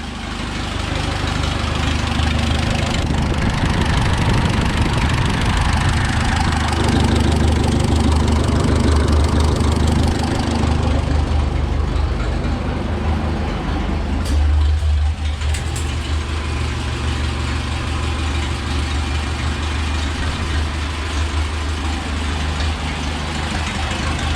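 A 1966 truck engine idles steadily and loudly for the whole stretch, a deep continuous rumble with a slight knocking texture and no talking.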